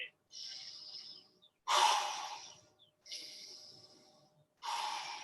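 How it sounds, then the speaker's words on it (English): Forceful breaths during a core exercise, four strong airy exhalations in a steady rhythm, each lasting about a second with short pauses between, close and clear with no talking. "Maybe get a little more forceful with the breath here."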